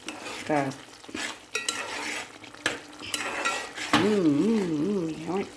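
A spoon stirs coriander powder into curry in a pan, giving close scraping strokes over a steady sizzle, with a wavering tonal sound in the background.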